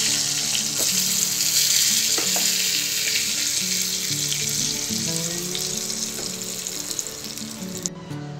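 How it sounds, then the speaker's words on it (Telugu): Boiled eggs fry in hot oil with turmeric, a steady loud sizzle running throughout with faint clinks and stirring scrapes, alone without talk. "మనం ముందుగా బాయిల్ చేసుకున్న ఎగ్స్ని ఇందులో ఫ్రై చేసుకోవాలి"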